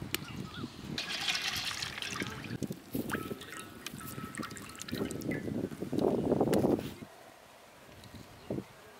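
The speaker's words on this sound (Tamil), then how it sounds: "இப்போ ஆயில் ஊற்றிடலாம்." Oil is poured into a palm-wood pan for a village-style prawn keema dish, giving a close, uneven trickle and splash of liquid over several seconds, with a louder gush toward the end amid faint outdoor background noise.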